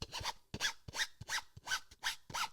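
A hand rubbing back and forth across the gritty face of a brand-new Joola Scorpeus 16mm pickleball paddle, six or seven even rasping strokes in steady rhythm, close and clear with no talking.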